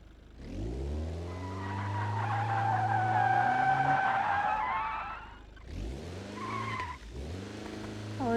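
A Togg car in the BeamNG Drive driving game brakes hard, its tires squealing in a long, loud skid over the engine drone. After a brief pause, shorter squeals and revving follow. No one speaks.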